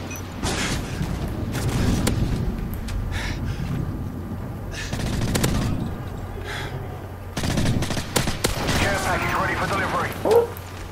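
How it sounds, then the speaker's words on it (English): Rapid machine gun bursts in a Call of Duty MW3 two-versus-two match, loud rattling volleys broken by short pauses alongside other game effects, with players talking and reacting over the gunfire. "Oh, they switched to machine gun to come out."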